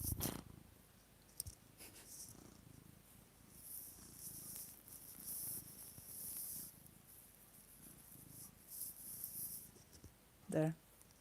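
A cat purring while settled in a lap, a soft continuous low rumble at close range that swells and fades in slow waves, with a brief louder rustle near the end.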